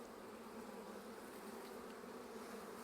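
Honeybees on a hive frame give off a steady, dense buzzing hum that stays close and even throughout, with no talking.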